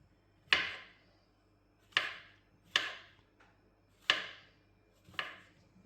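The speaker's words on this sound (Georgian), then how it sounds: "დავჭერთ სოკო შუაში." A knife chops through mushrooms on a cutting board in five sharp, evenly spaced strokes, each a crisp thud with a short ringing tail, close and clear with no talk.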